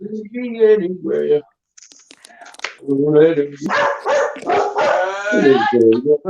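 Dogs bark, yip and howl at dusk, loud and close, in bursts that overlap and alternate with a person's voice that sounds like singing.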